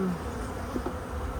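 Honey bees hum in a dense, steady buzz close at hand while being scooped into a newly set-up hive, with no voices.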